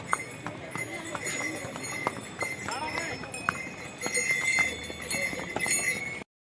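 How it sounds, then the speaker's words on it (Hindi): Horse hooves clip-clop in a steady rhythm on a mountain trail during a ride on the Kedarnath pilgrimage route, with bells and background chatter around them. "हम अब घोड़े की सवारी कर रहे हैं"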